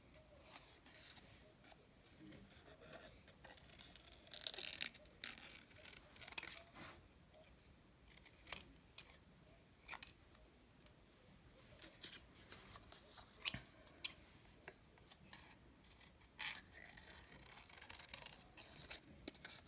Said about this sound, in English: But then I'm going to cut out just like half the olive.